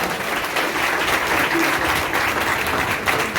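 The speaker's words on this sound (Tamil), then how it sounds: "நம்புறவங்க எல்லாம் நல்ல ஒரு கைதட்டு கொடுங்க பார்க்கலாம்" An audience at a school relief-aid event led by a minister breaks into dense, continuous applause, loud and steady throughout with no voices standing out.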